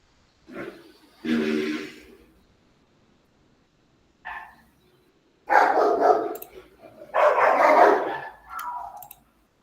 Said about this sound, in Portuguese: Que vai ter um cachorrinho aqui do lado. Ele vai latir em alguns momentos